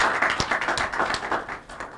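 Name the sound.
audience clapping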